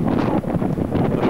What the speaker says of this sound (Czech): Tady pěkně fouká.